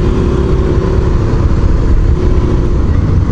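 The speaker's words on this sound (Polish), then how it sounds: "jak to V-ka właśnie spuścimy z obrotów momentalnie, jak to hamuje silnikiem" A Suzuki SV650N V-twin motorcycle's engine runs loud and close, with a steady low throbbing drone as revs drop under engine braking.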